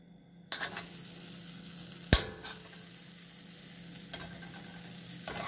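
Olive oil and butter sizzle in a frying pan over a steady low hiss, with a sharp clack near the middle and a few soft stirring scrapes, no voices.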